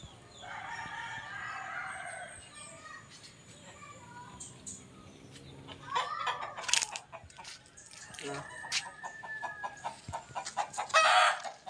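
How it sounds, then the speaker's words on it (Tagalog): Chickens cluck and call near and far, with a rooster crowing at times and scattered background noise between the calls. "Ang aking manok. May dalawa kong inahin mag-ina."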